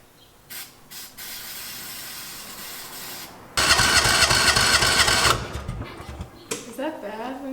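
Kawasaki Mule 600 utility vehicle engine cranking on its starter without catching, a loud sustained grinding burst in the middle after quieter mechanical noises, with voices talking afterward.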